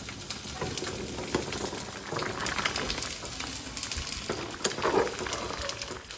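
Vegetables, radish greens, stirred in a hot pan on the stove, a steady close sizzle and bubbling with soft scraping strokes and brief louder clatters, no voices.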